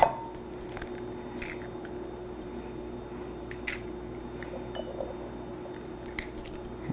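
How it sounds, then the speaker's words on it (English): Four eggs cracked against a bowl while making batter for fried green tomatoes: a few sharp, light taps and clinks spaced over several seconds, fairly quiet against a steady low background hum. "Let's get 4 eggs, just want to crack them."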